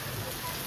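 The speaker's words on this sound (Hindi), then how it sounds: "तो बारिश तेज़ हो चुकी है" Heavy rain falls on a road trip from Faridabad to Meerut, making a brief, even, close hiss with no break or change.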